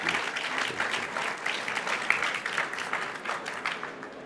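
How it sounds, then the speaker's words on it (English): An audience at a hydrogen skills conference applauds the panelists with a steady, moderately loud wash of clapping that swells and fades slightly and holds throughout. "I would like that you applaud the panelists"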